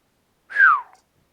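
A single short whistle from a person, a smooth falling tone lasting about half a second, heard clearly and alone in a quiet room.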